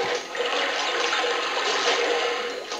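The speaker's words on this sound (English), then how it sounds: "Let that water go down." Water drains away in a Crash Bandicoot Warped game level, a continuous rushing, gurgling wash that swells and fades slightly and plays alone without voices.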